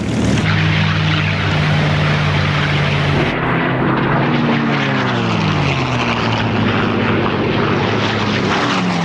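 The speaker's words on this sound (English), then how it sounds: "450 fighters were scrambled to intercept the Japanese planes" World War II Japanese propeller warplanes approach in a loud, continuous engine roar, their droning pitch sliding and shifting as the aircraft close in and pass, with no talk.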